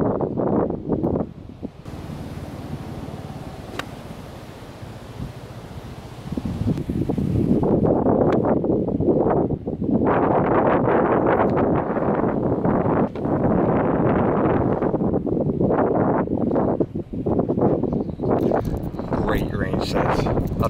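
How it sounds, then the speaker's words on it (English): Strong gusting wind buffets the microphone at a golf driving range, quieter at first and then a loud, continuous roaring rumble that surges and dips, with a voice faintly present. "The wind is crazy."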